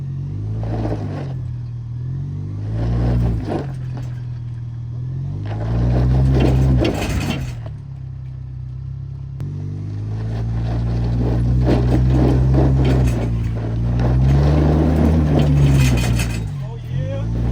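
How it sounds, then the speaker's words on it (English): A Chevy Colorado pickup crawling slowly up an off-road obstacle, its engine rumbling low and surging in repeated throttle bursts while people talk loudly over it. "Just braking gas at the same time so that you slowly crawl up."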